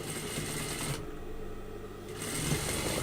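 A home sewing machine stitching fabric, running in a fast, steady whirring rattle close by, pausing briefly for about a second midway and then starting again; no one talks.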